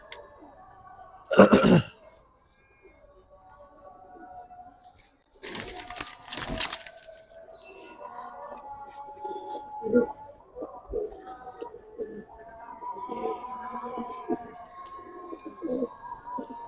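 Giribaz pigeons coo softly in a loft, low burbling calls scattered through the scene, broken by a few sharp noises and brief coughing or throat clearing nearby.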